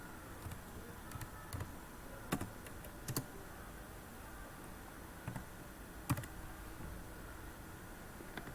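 Keys on a computer keyboard tap in scattered, irregular bursts while data is entered into an MS Access table, the clicks soft and close over faint room hiss.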